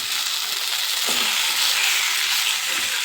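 Burnt eggplant being added to browned onions in a hot pan, a dense, steady sizzle of frying with a few soft stirring knocks, loud and close with no talk.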